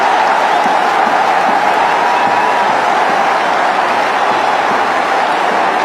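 Cricket crowd in a Bangladesh match roars steadily as Mominul Haq reaches fifty, a broad, continuous wash of cheering and scattered clapping from a distant stadium audience.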